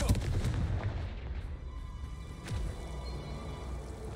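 A Confringo fire spell exploding in Hogwarts Legacy, a burst of booming, crackling blasts at the start followed by a sharper boom near the middle, then a fading rumble.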